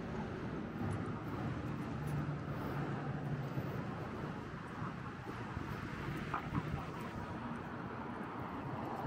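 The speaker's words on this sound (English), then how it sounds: "especially with the wind going like it is today" Wind blows outdoors in downtown Moab, Utah, giving a faint, steady, rumbling rush with slight gusts. Other distant background noise sits under it throughout.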